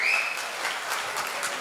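Wedding guests burst into warm, loud applause, a dense and steady wash of clapping hands that holds evenly for under two seconds with no voices over it.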